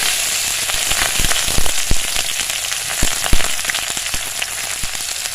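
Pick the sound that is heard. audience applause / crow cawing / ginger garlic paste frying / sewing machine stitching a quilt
ginger garlic paste frying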